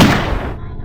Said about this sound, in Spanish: Se escuchó un disparo, un repentino estruendo en el frío silencio.